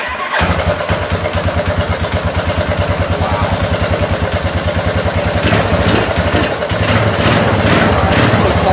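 A Yamaha 350cc engine powering a kart catches and starts, then runs with a loud, close, rapid pulsing putter and a slight rise in revs toward the end.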